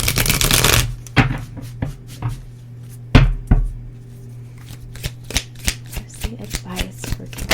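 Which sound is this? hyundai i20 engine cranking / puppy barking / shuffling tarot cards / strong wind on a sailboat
shuffling tarot cards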